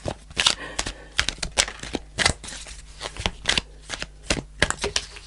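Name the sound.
shuffling fairy oracle cards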